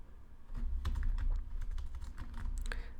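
Java code typed on a computer keyboard: a steady run of close, fairly loud key clacks over a low background hum, with no pauses in the patter.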